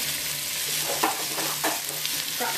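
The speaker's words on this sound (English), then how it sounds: "I'm going to let all this fry up until the garlic gets a little bit brown, and the onions as well" Ginger, onion and garlic fry in a pan for a Vietnamese beef stew base, a dense close sizzle with soft stirring scrapes running throughout, no voices.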